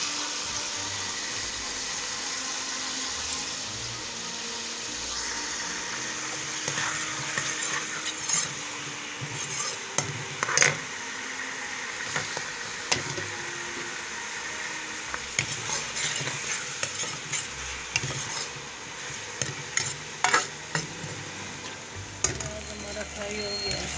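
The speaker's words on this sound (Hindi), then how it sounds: "ऑयल हमारा गर्म हो गया, अब इसमें प्याज डाल रही हूँ।" Onions hit hot oil in a karahi pan for beef karahi, giving a steady, close sizzle and hiss throughout, with scraping spatula stirs and clinks that rise in bursts over the frying.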